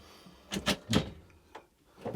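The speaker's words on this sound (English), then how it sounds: "A slide out drawer for cutlery." A slide-out cutlery drawer in a 2002 Autosleeper Talisman motorhome kitchen slides out with a short rolling rumble and a couple of clacks, close by and brief, followed by a quieter knock.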